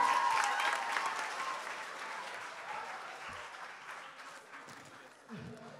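An audience at a school prom ball breaks into loud, dense applause that slowly fades to scattered clapping.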